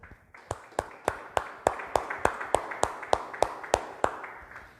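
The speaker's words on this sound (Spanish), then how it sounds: "Aplauda al Rey, por favor." A church congregation claps in a steady, even rhythm, with sharp hand claps repeating about three to four times per second for several seconds and no voices over them.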